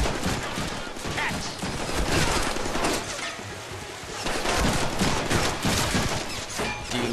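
Dense rapid gunfire in the Deadpool video game, sustained volleys of shots rattling loud and close, with a brief spoken word partway through.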